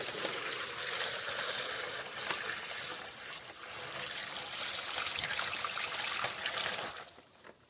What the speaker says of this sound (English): Then I'm going to take the cooled brine and pour it on top.